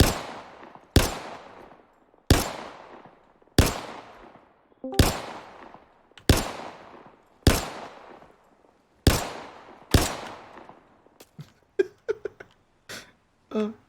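Ballistic pistol shots in the Star Citizen video game ring out one at a time, nine evenly spaced sharp cracks each trailing off in a decaying tail, followed by scattered quieter clicks and thuds.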